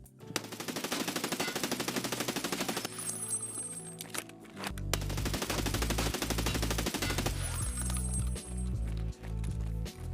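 Rapid automatic gunfire crackles in Escape From Tarkov, fired from a crouch, in two long sustained bursts with a short pause between them and a deep booming layer under the second stretch.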